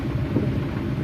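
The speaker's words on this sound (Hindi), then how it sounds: "बादल गरजने की आवाज़ें अभी भी आ रही हैं नाज़रीन" Thunder during heavy rain in Islamabad comes as a continuous low rumble mixed with the wash of downpour, steady and fairly loud throughout the brief moment.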